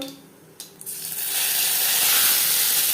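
Whole cumin seeds frying in hot mustard oil in a pan, a bright steady hiss and sizzle that swells after a couple of soft clicks and holds loud to the end.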